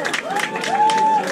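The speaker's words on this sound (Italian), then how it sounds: "Un applauso a Fabio!" A brief burst of audience applause and cheering at the opening of a cinema theatre, short and moderately loud, with voices mixed in.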